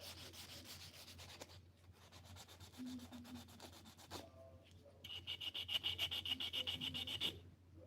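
Hand sanding with 400 grit sandpaper during polishing and sharpening: rhythmic back-and-forth rasping strokes, quieter at first, then a run of sharper, faster strokes near the end, close up and without talk.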